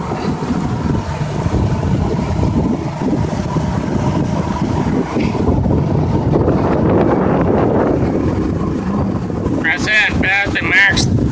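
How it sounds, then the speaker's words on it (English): Johnson 150 outboard motor on a 2000 boat held at full throttle but stuck near 2000 RPM, a steady loud drone blended with heavy wind buffeting, with a voice speaking near the end. "The max on the throttle, it won't go any further, and right there, the RPM, and here's what the engine sounds like."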